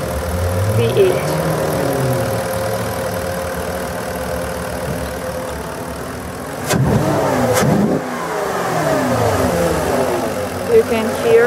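A tuned Porsche Cayenne V8 engine idles with a steady low rumble, a short rev rising midway, close to the microphone with no voices.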